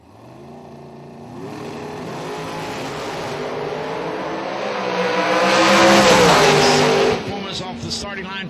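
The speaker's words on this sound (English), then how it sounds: "Off the starting line for both cars." Two drag race cars launch off the starting line at a Super Bowl Friday event, engines roaring loudly and rising in pitch as they pull away, with an announcer talking over the noise.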